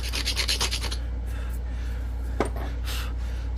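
A grater rasp scrubs across the surface of a slate percussion turkey call, giving a few quick raspy scraping strokes at first, then quieter rubbing with a brief sharp scratch, close up over a low steady hum.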